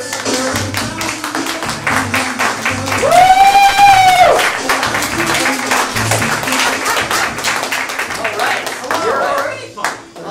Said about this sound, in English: make some noise and cheer them on